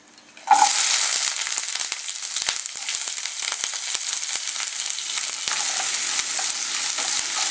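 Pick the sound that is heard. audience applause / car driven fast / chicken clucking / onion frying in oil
onion frying in oil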